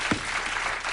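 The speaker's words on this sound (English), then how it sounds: "As you can see, you seem to be applauding that." A late-night Letterman studio audience keeps clapping in a steady, fairly soft wash of applause, with one brief low thump near the start and no voices over it.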